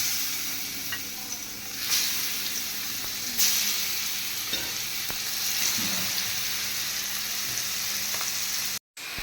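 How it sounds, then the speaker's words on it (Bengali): Pangas fish frying in hot oil in a frying pan: oil sizzles and crackles continuously at close range, a dense steady frying hiss with occasional pops and stirring sounds. "এখন আমি মাছটা ভেজে নিই"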